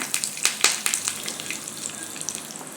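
Curry leaves, cumin and mustard seeds hit hot oil in sharp bursts of sizzling and spitting, loud at first then settling into a steady crackle.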